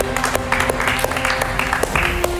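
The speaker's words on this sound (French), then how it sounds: "on l'applaudit encore une fois" Spectators applaud the winner of a running race, scattered sharp claps over a noisy background with a steady tone and some outdoor bustle, moderately loud and close.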